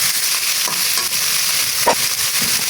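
Chopped onion, tomato, garlic and green chili fry together in a pan for an egg and tomato curry. A steady, close hiss of sizzling runs throughout, with small crackles and a few soft stirring scrapes.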